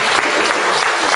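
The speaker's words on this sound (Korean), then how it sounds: "여러분께서 큰 박수를 주셔서" Dense, loud applause from an audience at a Won Buddhist ceremony, a steady wall of clapping with no gaps.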